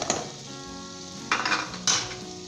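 Tomatoes being stirred in a frying pan for Lahori daal give a soft steady sizzle, broken by a few sharp clinks of a spoon against the pan.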